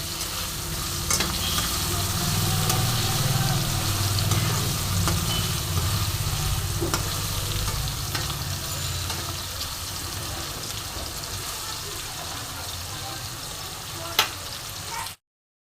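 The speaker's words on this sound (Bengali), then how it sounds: "এবার ভালো মতন এটা আমি একটু ভেজে নেব।" Grated ginger and finely chopped tomato fry in a kadai over tempered spices, a soft continuous sizzle with faint stirring clicks that holds steady throughout, then cuts off at the end.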